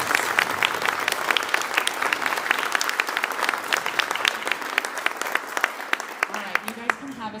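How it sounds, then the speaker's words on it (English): An audience at a school spring concert applauds solo and ensemble participants, with steady sustained clapping throughout and voices beneath it near the end. "So round of applause for our solo and ensemble participants"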